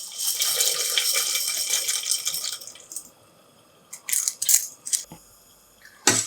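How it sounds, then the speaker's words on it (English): Dry elbow pasta tipped into a pot of water with oil and salt, giving a long bright rattling pour, a pause, then several short splashy clatters and a final rattle, close and moderately loud with no talking. "For this, I am going to add 1 cup of botti elbow pasta."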